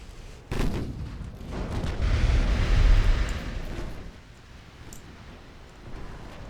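Naval artillery from warships in Ultimate Admiral Dreadnoughts, heard as a sharp report followed by a deep, rolling boom that swells and fades over several seconds against an ocean-like rumble.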